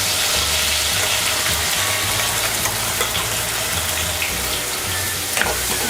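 Ground masala paste frying in a pan for veg Kolhapuri, a loud, continuous close sizzle with a low rumbling undertone and occasional stirring clatter.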